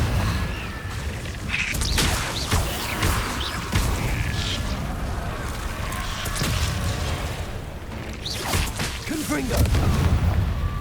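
Confringo blasting spells in Hogwarts Legacy go off as a series of loud booming explosions with crashing debris, spread irregularly across the stretch, with some voice underneath.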